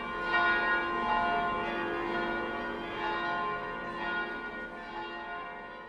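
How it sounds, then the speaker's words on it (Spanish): Parish church bells of San Isidro pealing in celebration, rung in a full swinging peal; a loud, continuous wash of overlapping bell tones fills the whole stretch without any voices. "las campanas del templo parroquial de San Isidro tocaron a vuelo"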